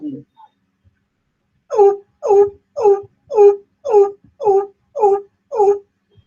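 A man imitates the greater coucal's call with his voice, eight deep, hollow hooting notes in a steady evenly spaced series, close and loud with silence around them.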